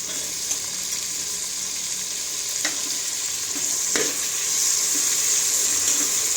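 Onion and tomato frying in a pan for a tomato rice dish, a steady close sizzle with a few sharp scraping clicks from stirring, the hiss growing slightly louder toward the end.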